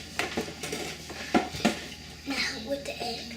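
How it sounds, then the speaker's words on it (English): A utensil scrapes and knocks against the bottom and sides of a mixing bowl of cake batter in a series of short clinks and scrapes, with voices in the background. "Be sure to scrape the bottom in, scrape the sides."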